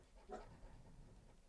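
Anxious dogs panting nearby, a short quiet run of quick breaths with a faint whimper, no talk.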